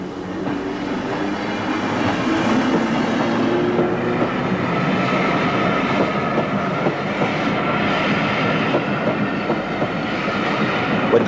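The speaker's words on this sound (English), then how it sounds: "When the train has cleared the crossing" A train rumbles past continuously at close range over a British level crossing, with a steady roar and faint rhythmic clatter of wheels over the track.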